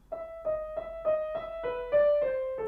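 The opening phrase of Beethoven's "Für Elise" on piano: a quiet, steady run of single notes repeating in an even rhythm, close and alone with no voices.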